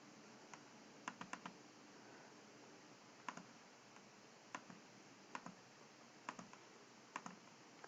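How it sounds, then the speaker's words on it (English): Quiet, irregular clicks of calculator buttons being pressed, some in quick clusters, over a faint steady hiss; no one speaks. "So I'm typing the numbers in,"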